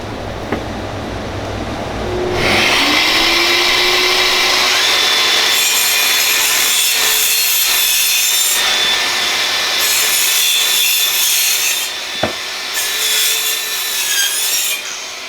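A DeWalt DCS571B Atomic 20V Max 4-1/2 inch cordless circular saw spins up with a dust extractor attached and cuts through wood, a loud high whine and rasping bite held for about ten seconds before winding down, close and alone.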